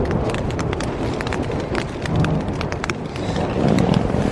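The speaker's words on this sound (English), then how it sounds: "But here's a storm." Thunderstorm in the Colorado mountains, heavy rain pattering loudly and close on a surface with a low rumble of thunder beneath, continuous throughout.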